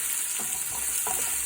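Onion and garlic frying in a pan for chicken curry, a loud continuous sizzle with a couple of soft stirring scrapes, close up.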